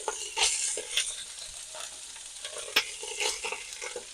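Sausage, bell peppers and onions cooking in a pan, a soft sizzle under irregular scraping and stirring clatter with sharp spoon-on-pan knocks, close and uneven, no talking.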